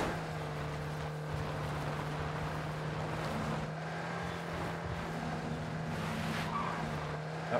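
A car driven in the PUBG video game hums with a steady engine drone and road rumble, moderately loud and continuous, with no talk over it.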